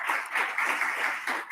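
Guests at a formal thought-leaders dinner give a short round of moderately quiet applause, many hands clapping together in a continuous patter.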